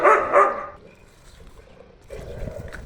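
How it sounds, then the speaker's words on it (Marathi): A dog nearby barks twice, loud and sharp. A quieter stretch of background noise follows, then a low rumble sets in. "सावधानी, कुत्रं उठलंय."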